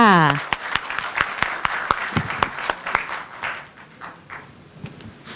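An audience at a Thai alumni group stage presentation claps, with sharp, distinct hand claps in a quick run that thins and fades over a few seconds. A voice is heard briefly at the start.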